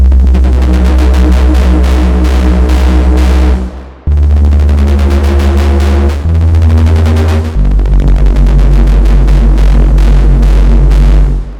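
A loud, heavy bass synth drones with a fast throbbing, growling pulse, shifting pitch a few times across sustained notes.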